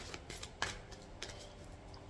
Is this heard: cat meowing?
no